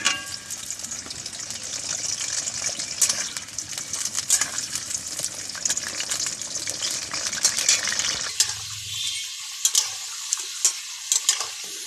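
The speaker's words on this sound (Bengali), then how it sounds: "আমি আলুগুলোকে ভেজে নেব।" Potatoes fry in a pan with a loud, dense sizzle and stirring scrapes for most of the stretch, then the frying noise drops away, leaving scattered light clicks and taps.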